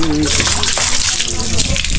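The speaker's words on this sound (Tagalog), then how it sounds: "Lamig na tubig." Cold water runs hard and close from a tap or hose, a loud, unbroken gushing rush that fills the whole two seconds, with a voice faintly underneath.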